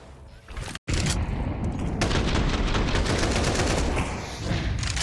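Dense, sustained gunfire from a Counter-Strike esports match, with pistol shots rattling almost continuously after a brief opening burst and a sharp silent gap.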